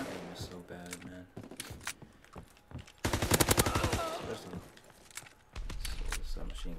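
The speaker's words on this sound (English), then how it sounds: "So the submachine gun ain't really good for far away." Rapid submachine gun fire in the Call of Duty WW2 video game comes as a dense, loud burst in the middle, with sparser shots and game effects around it and a player's voice talking throughout.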